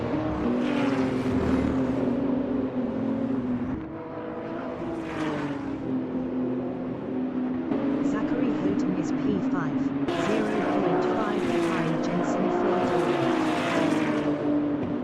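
GT3 race cars at speed on a worn-tyre track, a continuous loud engine drone with shifting pitch as cars pass, under steady commentary voices throughout.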